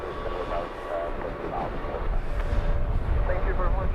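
A Turkish-flagged airliner in an all-black livery roars steadily at London Luton Airport, a continuous engine rumble that swells slightly toward the end, with a voice talking faintly underneath.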